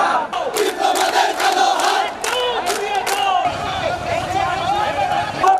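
Protesters at a street rally in Rajshahi chant slogans in unison, a loud, dense crowd of voices shouting in rhythmic waves close by for the whole stretch.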